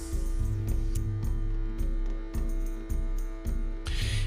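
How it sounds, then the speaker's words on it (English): A space heater hums steadily in a back room, a constant low drone with harmonic tones running throughout, broken by a few soft thumps and one brief brighter noise burst at the end. "If you can hear a humming in the background, that's probably a space heater."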